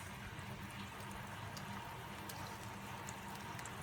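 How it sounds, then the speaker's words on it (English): Chicken manchow soup bubbles at a steady simmer in a pot, a soft continuous gurgle with faint pops, quiet and with no voices. "The soup started boiling."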